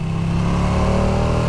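A Ducati Panigale V2 motorcycle engine pulls in a higher gear from around four thousand rpm on a wet ride, its revs building gradually in a steady, close, buzzing drone.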